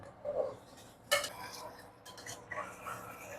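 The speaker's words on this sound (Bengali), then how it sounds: "আমি এখন পেঁয়াজ নাড়তে শুরু করে দিয়েছি" A spatula stirring onions in a cooking pan, light scraping and clinking strokes at close range, fairly soft with a few sharper metallic knocks, no talking.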